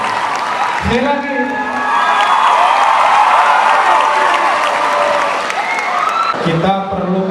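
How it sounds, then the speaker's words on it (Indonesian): Applause from the audience at the opening of a 24-day child-protection campaign, clapping and some cheering from the crowd running steadily under a talking voice, with speech marking the start and end. "Kita tepuk tangan buat kita semua untuk kasih sayang ini"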